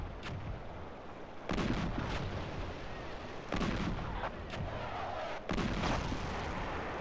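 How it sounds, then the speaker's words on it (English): A World War II-era anti-tank rifle fires in the Battlefield game mod, giving three or four loud, heavy booming shots spaced a couple of seconds apart over a constant rumbling battlefield background. "See the range of this anti-tank rifle?"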